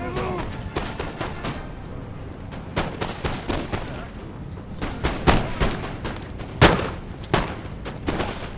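Musket volleys and artillery fire in a Napoleon Total War multiplayer battle on a hilltop, as Ottoman troops fight Savoy: a dense stream of sharp cracks and booms at varied distances, with a few louder close shots standing out.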